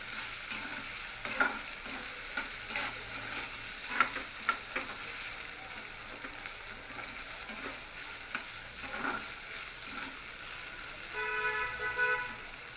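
Boiled peas are stirred into sandwich filling in a pan, with a steady low sizzle and soft repeated scraping strokes. A faint car horn toots in the background near the end.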